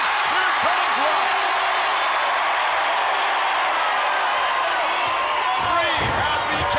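A large capacity crowd of about 80,000 at the SummerSlam wrestling event roars in sustained cheering and ovation, a broad steady wash of noise with a commentator talking over it.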